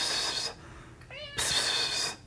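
A cat meowing, a short rising-falling meow between bursts of hissy broadband noise, fairly close and clear.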